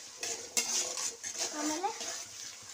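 Tomatoes fry in a pan for egg rice while a utensil stirs and scrapes, giving a soft sizzle with close clinks and scraping strokes and a brief voice mixed in.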